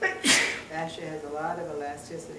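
A single sharp sneeze bursts out close by in a lecture on fascia, ligaments, bones and muscles, and a person keeps talking right after it.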